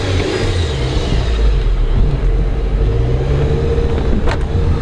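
A Honda Civic Si engine revs hard while the car is driven, a loud, close roar climbing in pitch and holding near the rev limiter, with a throaty rumble underneath.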